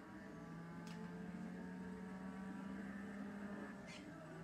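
A racing car drives in Forza Horizon 4 on an iPad, a steady engine drone holding one pitch under game music, moderately quiet and continuous, with a couple of brief whooshes.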